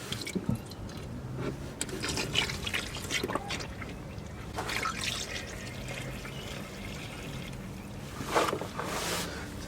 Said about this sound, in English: now you got your catch can underneath, ready to catch the oil